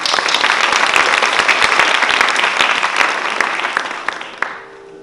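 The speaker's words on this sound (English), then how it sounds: "Could we get another round of applause?" A theater audience at a Bharatanatyam dance debut gives a loud, dense round of clapping that holds steady, then thins and fades to silence near the end.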